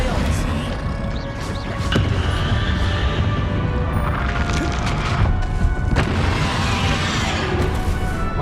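Spell combat in Hogwarts Legacy with an Expelliarmus cast among repeated booming bursts, crashes and whooshing impacts, dense and loud throughout, with voices over the action.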